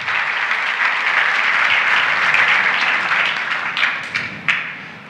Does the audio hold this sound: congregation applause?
yes